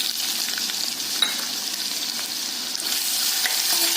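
Diced potato sautés with curry leaves and garlic in a pan, a steady close hiss of frying with faint stirring scrapes and small crackles throughout.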